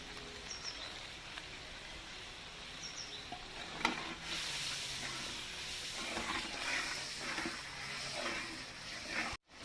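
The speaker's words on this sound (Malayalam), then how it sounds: "നമ്മുടെ ഗ്രേവി എല്ലാം നന്നായിട്ട് തിളച്ചിട്ടുണ്ട്" Chicken biryani gravy bubbling in a pot, a soft steady simmering hiss with faint popping, low and continuous, no talking.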